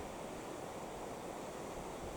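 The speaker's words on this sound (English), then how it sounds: "showing the river flowing round the corner" A river flowing round a bend at Kinloch Rannoch gives a faint, steady, even rush of water, with no voices.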